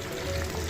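Olive oil pours in a steady, close stream into a pan for frying tofu, a continuous soft liquid rush lasting under a second with no voices.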